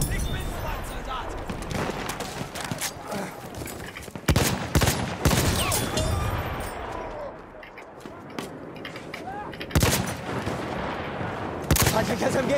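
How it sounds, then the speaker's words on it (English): Machine gun fire and scattered gunshots in the World War I shooter Battlefield 1, sustained rattling bursts with louder sharp cracks near the middle and end, dense battlefield noise throughout. "Feindliches MG da drüben!"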